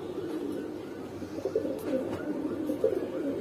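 Big pigeons, some in moult, at a bird sale, cooing in a steady low murmur of overlapping throaty coos close by, continuous through the stretch with a few slightly louder swells.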